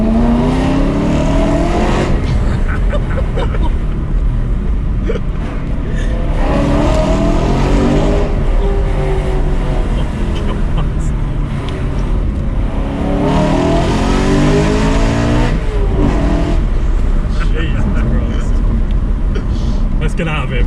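A loud decatted BMW M3 engine revs hard and accelerates in repeated surging pulls, raw and close, with people talking over it.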